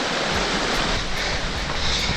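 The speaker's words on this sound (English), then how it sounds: "you got the actual creek right next to us" A creek flows right beside a hiking trail, its water rushing in a steady, close, full hiss that never lets up, with no one speaking.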